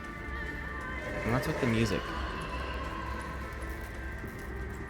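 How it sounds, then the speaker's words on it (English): Pig-like squealing grunts from the horror game Amnesia: A Machine for Pigs rise briefly in the middle of a dark, droning ambience, with a person talking over them. "And what's with the pig noises?"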